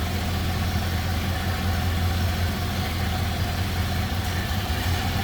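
The engine of a 1930 Ford Model A Roadster idles smoothly and steadily, a constant low rumble close by with no other sounds over it.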